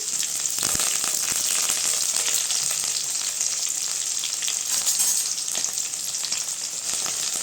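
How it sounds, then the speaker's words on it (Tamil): Onions and curry leaves frying in a pan for goat intestine kuzhambu, a loud continuous crackling sizzle with scattered pops, steady from start to finish. "இப்போ வெங்காயம் சேர்த்துக்கலாங்க கறிவேப்பிலை சேர்த்துக்கலாம்"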